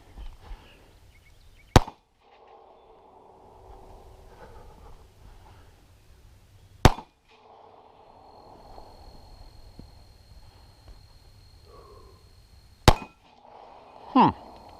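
Three sharp, isolated metallic impacts from handgun shots striking steel plates at a shooting range, evenly spaced several seconds apart, with a steady low background hum and a faint clatter near the end.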